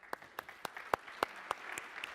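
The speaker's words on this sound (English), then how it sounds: "Please a round of applause for him." Sparse, faint clapping from a conference audience welcoming a panelist, a handful of distinct claps spaced out over about two seconds.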